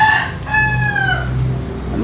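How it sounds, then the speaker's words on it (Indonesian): A rooster crows nearby, loud and clear, two drawn-out calls in quick succession over a low background rumble. "si jago kongkong wae gandeng"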